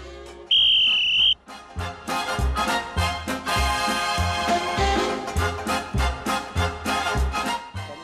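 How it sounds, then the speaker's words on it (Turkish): A sharp, shrill whistle blast from a game-show host sounds for under a second, starting a one-minute round, then loud rhythmic music with heavy beats kicks in and continues. "Düdüğüme basıyorum."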